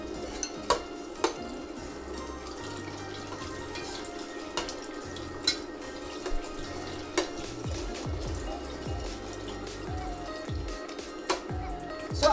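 Chicken broth, 900 ml, pours into a cooking pot for sotanghon soup, a soft steady liquid splash with a few faint clinks of kitchenware, quiet and close.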